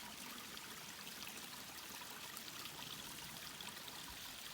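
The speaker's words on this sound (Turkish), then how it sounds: "Küçük bir şelale oluşmuş burada." A small waterfall in a stream in the countryside gives off a steady, faint, even rush of flowing water that stays unbroken throughout with no voices.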